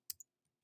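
Two quick, crisp keystrokes on a computer keyboard as numbers are typed, close and isolated, followed by near silence.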